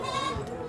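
A goat bleats at a livestock market, one short wavering call close by amid crowd noise and background chatter.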